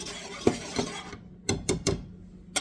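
Dry biscuit ingredients being mixed in a bowl for buttermilk biscuits, heard as a handful of sharp, irregular clicks and knocks of a utensil against the bowl over a quiet background, with no talking.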